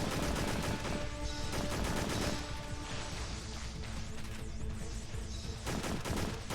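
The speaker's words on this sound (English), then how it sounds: "So you shoot the turrets" Gunfire in the PS2 game Extermination as the player shoots turrets, with a steady, dense clatter of shots over a constant game soundscape and no talking.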